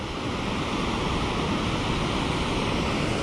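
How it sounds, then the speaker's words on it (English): River water pours over falls running high, a steady close roar of rushing, splashing flow that stays constant in level throughout, with no voices. "The water's just started getting high enough, so now it's going over the falls pretty good."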